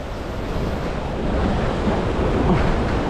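A waterfall at the Efteling theme park roars as a steady, loud, broadband rush of falling water with wind buffeting the microphone, continuous throughout and without talk.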